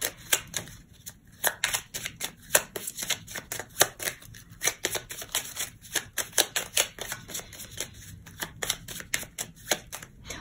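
A deck of Petit Lenormand cards is shuffled close up in a quick, continuous flurry of crisp flicks and riffles with no talk.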